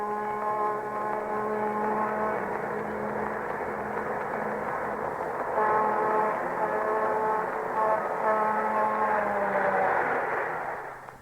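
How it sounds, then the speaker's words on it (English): A Lionel model train's built-in whistle sounds a steady, sustained, layered tone that holds for about eleven seconds at an even loud level. "Built-in whistle. Only Lionel has it."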